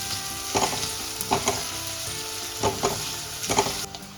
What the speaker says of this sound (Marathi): मस्त असा एकदम असा तांबूस रंगावर आपल्याला कांदा व्यवस्थित अगदी भाजून घ्यायचा आहे।